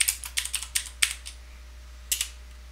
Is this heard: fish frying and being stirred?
no